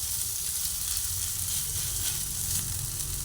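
Stuffing fries in a little white oil in a pan over a gas flame, giving a steady, close sizzling hiss that runs without a break and carries no talk.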